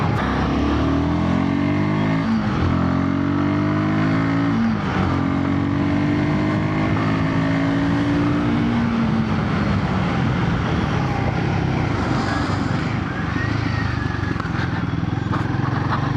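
A Royal Enfield Guerrilla 450 engine revs hard while the rider accelerates through the gears. The pitch climbs and drops with each quick shift, loud and close, then settles into a rougher, steady drone.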